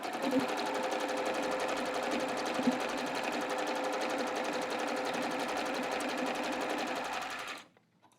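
A sewing machine zigzag-stitches the edge where a pants pocket meets the side seam. The motor buzzes continuously and evenly for about seven seconds, then winds down and stops, heard up close.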